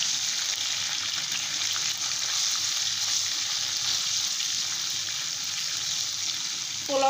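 Cardamom, cloves, bay leaves and cinnamon stirred in hot oil for hilsa fish pulao. A continuous close sizzle holds at an even level from start to finish, with a small clink at the very end.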